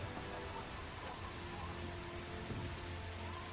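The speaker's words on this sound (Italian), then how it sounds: "Sta ricominciando a piovere." Steady rain falls again at an outdoor Passion of Christ crucifixion re-enactment in Mussomeli, a dense continuous hiss of drops on surfaces with no voices.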